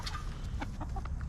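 Jersey Giant chickens bought from Tractor Supply cluck in a quick, close series of short notes over low background rumble.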